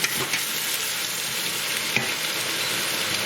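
Lamb for a karahi gosht sizzles and crackles steadily in a hot pan while being stirred, a dense close frying hiss with a few small scrapes and pops, no voices.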